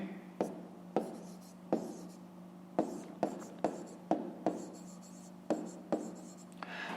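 A pen writes on paper during a fifth-grade maths exercise, with a series of short, sharp scratching strokes and taps in an irregular rhythm, close and fairly quiet, with no voices.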